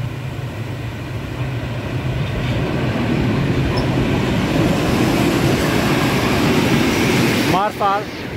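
A freight train rolls through the Prahova Valley near Sinaia in summer, a loud, continuous rumble of wagons passing close by, ending with a brief, sharp wheel squeal.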